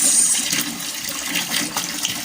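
Water gushes steadily from a hose fed from a well, a loud continuous rushing splash close by that stays even throughout with no voices.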